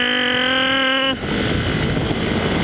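Motorcycle underway on a private road: a steady tonal engine drone for about a second, then a loud, broad rush of engine and wind noise that continues without a break.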